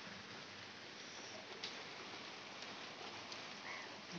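Steady rain falling outside a house, a soft even hiss with faint scattered drips, continuous and fairly quiet with no voices.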